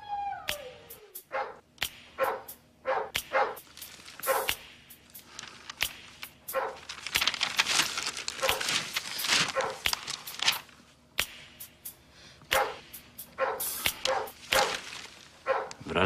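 A dog barks repeatedly indoors at night, sharp yaps spaced through the stretch with several quick bursts, fairly close and loud over a low steady background hum.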